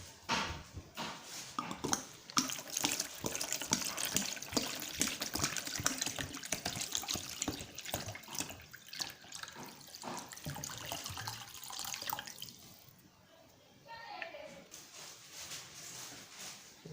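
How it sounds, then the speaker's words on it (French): Water runs and splashes into a container for a homemade soap-based recipe, a continuous close trickling and gushing with clinks of the vessel, easing off near the end into a quieter drip and slosh. "Et on ajoute l'eau."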